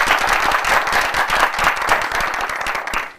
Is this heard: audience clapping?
yes